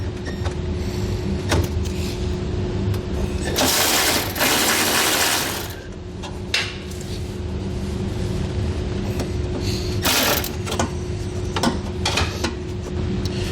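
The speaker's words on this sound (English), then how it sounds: "We're going to use a 10mm socket, remove both of those." Ratchet with a 10mm socket removing nuts during a truck underbed hitch kit installation: steady mechanical clicking runs throughout under a constant hum, with a few sharper bursts, and no talk.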